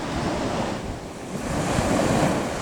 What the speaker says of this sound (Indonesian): di sini pantai pasir putih